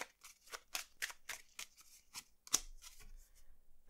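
Playing cards are riffled and shuffled at a tarot-style reading, a quick series of close, crisp flicking bursts with short gaps, faint and alone.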